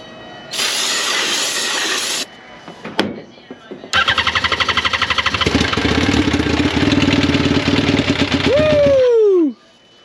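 Suzuki RMZ250 dirt bike with an open exhaust, started and revved hard, then running in a loud, rapid popping, crackling idle close by, with a brief rising whine near the end.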